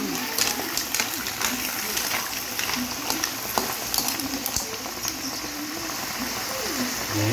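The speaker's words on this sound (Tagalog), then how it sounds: "Ayan, pwede na po natin siya lagyan ng tubig." Water pours and splashes steadily into a pan of sautéed mussels, a continuous gushing hiss with small spatters, close and fairly loud.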